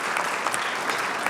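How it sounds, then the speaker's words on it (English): Audience at a police intergroup event applauding for a person, a dense steady wash of many hands clapping at once, fairly loud, brief and continuous. "You can clap for Jannes de Jong."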